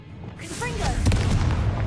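A spell blast from Hogwarts Legacy erupts in a fiery whoosh with rising tonal swooshes, swelling into a rumbling explosive roar that holds loud through the end.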